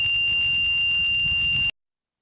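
A JLG 1250 AJP boom lift's platform alarm gives a steady high-pitched electronic tone continuously for under two seconds, then cuts off abruptly to silence.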